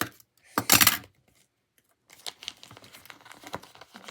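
Plastic packaging crinkles and tears in a short loud burst, followed after a pause by quieter rustling and crackling handling noises.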